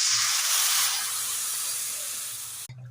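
Hot tempering of mustard seeds, urad dal, asafoetida, shallots and curry leaves poured into sambar, giving a broad steady hiss and sizzle that slowly fades before cutting off abruptly, close and with no talk.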